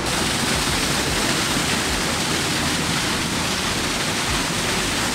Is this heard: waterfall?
yes